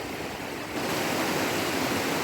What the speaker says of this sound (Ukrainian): он струмок такий тече гарний